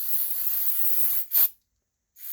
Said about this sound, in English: Get you some good electronics cleaner, because you want to be careful about what you spray on this stuff.